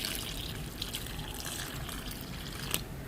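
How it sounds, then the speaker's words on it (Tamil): Water trickles and splashes close by as it is poured over ground curry powder, garlic and shallots while preparing a Sri Lankan prawn curry paste. "தண்ணி."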